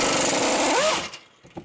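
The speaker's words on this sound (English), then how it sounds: "get your 18 mil up in there with a wobble socket" An 18 mm wobble socket turning a tight strut bolt on a Dodge gives a loud, steady mechanical whir that rises briefly in pitch, then cuts off, followed by a few small clicks.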